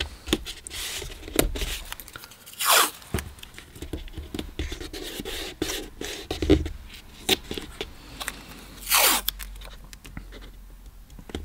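Masking tape pulled off a roll and pressed down to fix watercolor paper to a board, giving scratchy tearing strips and soft hand patter, with two louder rips standing out, close and alone.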